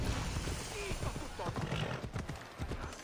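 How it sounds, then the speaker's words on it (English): A horse gallops in the video game Assassin's Creed Odyssey, with rapid hoof clip-clops and a brief whinny under a busy background and overlapping speech. "Horse coming through."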